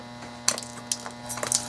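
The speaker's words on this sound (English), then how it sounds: "So I'll just trim it all off" Regular scissors trim thin cured resin from a sand dollar coaster, giving a few sharp, isolated snips spaced out over a quiet hum, close and crisp.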